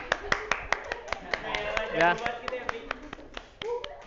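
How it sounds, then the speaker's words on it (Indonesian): A small group of students claps for a classmate in a mathematics classroom lesson, giving a dozen or so sharp, uneven claps. Someone keeps talking over the clapping close by. "tepuk tangan untuk Ani"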